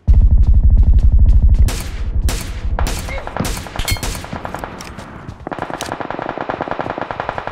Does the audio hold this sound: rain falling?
no